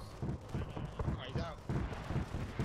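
Arma 3 gunfire in a Halo-themed Covenant invasion battle, with rapid bursts of shots and distant rumbling across the whole stretch, mixed under a voice.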